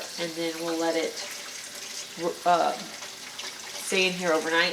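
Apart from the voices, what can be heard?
water filling a roaster oven full of pork bones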